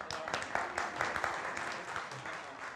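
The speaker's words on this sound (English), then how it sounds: "Give her a round of applause." A conference audience claps for the event timekeeper, a moderate, fairly distant patter of many hands without a voice over it.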